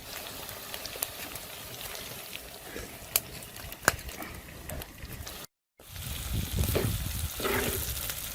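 Onions sautéing in a pan for a traditional Jaffna-style mutton curry, a continuous crackling sizzle with scattered sharp pops and a brief drop-out before it swells louder.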